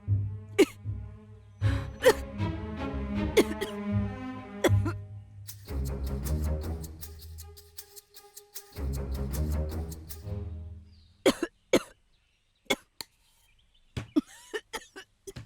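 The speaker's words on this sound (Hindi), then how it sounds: "इतनी खांसी हो रही थी" A woman coughs repeatedly in harsh, strained fits, loud and close, with voiced gasping between bursts, then trailing into a few isolated sharp coughs and quieter breaths in a movie scene.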